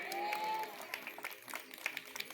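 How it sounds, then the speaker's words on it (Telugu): A church congregation claps hands at a Christmas service, heard as faint, loose, scattered clapping with a few distant voices in the room. "చప్పట్లు కొట్టండి."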